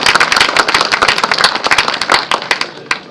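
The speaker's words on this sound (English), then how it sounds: "A big round of applause for them." Audience at a school World Earth Day event breaks into dense, loud hand clapping after a drama performance, a close, crackling burst of many hands that thins out and fades toward the end.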